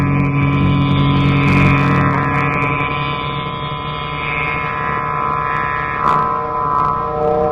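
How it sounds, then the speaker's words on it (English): Car engine drone for a radio drama, a steady hum as the vehicle drives into a city, continuous and fairly loud with a slight swell near the end, no voices. "They drove into the city."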